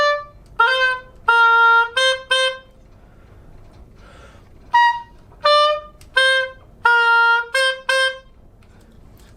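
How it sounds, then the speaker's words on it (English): An oboe plays short melodic phrases of bright, reedy, nasal notes, some held and some clipped, with brief silent gaps between phrases, fairly close and clear with no speech. "I picked up the oboe in 13th grade."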